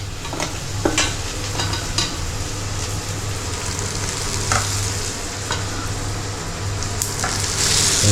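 Fried potatoes and aubergine being stirred into onion and tomato frying in a pan, a steady sizzle broken by repeated scraping and knocking of a spatula, with a low constant hum underneath.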